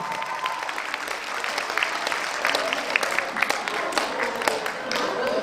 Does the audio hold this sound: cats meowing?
no